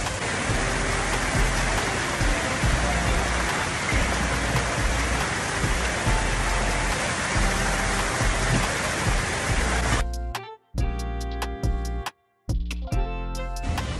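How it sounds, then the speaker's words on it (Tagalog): Shower water running steadily in a bathroom in Malaysia, a loud, constant hiss of spray that cuts off abruptly near the end, then returns in short bursts with brief silences between. "Shower siya guys."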